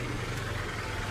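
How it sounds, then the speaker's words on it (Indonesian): A motorcycle engine idles steadily outside a house in an Indonesian drama scene, a low, continuous rumbling hum at moderate, even volume with no rises or revs and no talking. "Tuh suara motor suami Ibu."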